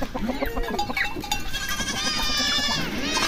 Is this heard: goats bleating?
yes